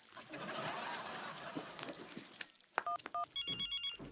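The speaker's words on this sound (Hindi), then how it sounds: "रज्जू अब फोन कर रही।" A telephone rings in a domestic setting, giving two short bursts of ringing followed by a brighter electronic ringtone pattern, heard after a stretch of busy background noise that may include kitchen sounds.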